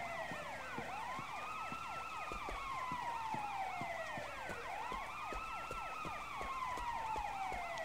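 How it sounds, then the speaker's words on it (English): Several emergency vehicle sirens wail continuously in the Sleeping Dogs video game, overlapping rising and falling tones looping steadily at moderate distance with no talk. "why are there still sirens just going?"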